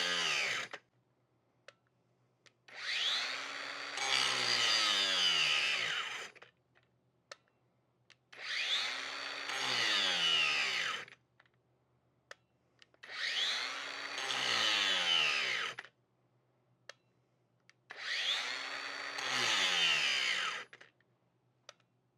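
A Hyper Tough brushless angle grinder cuts into wood in four loud bursts of about two to three seconds each. Each cut is a harsh, whining grind, separated by short near-silent pauses.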